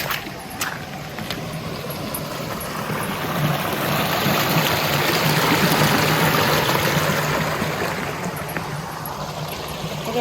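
Water rushes steadily in a creek beside an old grist mill along a hiking trail, a loud, close, continuous broadband wash with a few faint clicks near the start.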